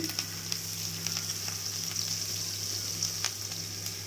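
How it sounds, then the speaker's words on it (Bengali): Browned onions sizzle and fry steadily in a pan with ginger paste, garlic paste and ground spices such as turmeric for a prawn curry, a constant close crackle with faint stirring clicks and no voices. "আমি এখন এর মধ্যে আদা বাটা, রসুন বাটা, হলুদ গুঁড়ো,"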